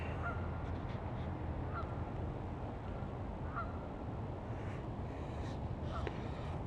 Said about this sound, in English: And you can hear the geese.